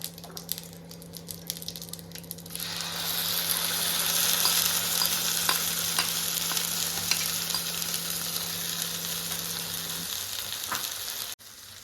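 Brinjal masala fries in a pan, a close, continuous sizzle that swells after a quiet start, broken by repeated scraping stirs of the spatula before cutting off abruptly near the end, with no one speaking.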